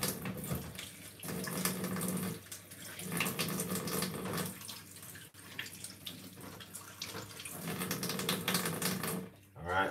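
Bay leaves being washed under running tap water, a loud close stream that surges and pauses in bursts as the leaves are rinsed, with some rustling and handling clatter.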